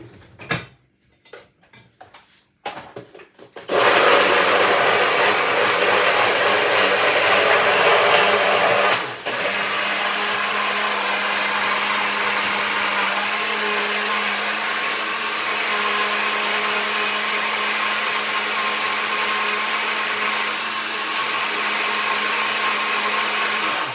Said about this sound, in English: And now we're gonna blend this.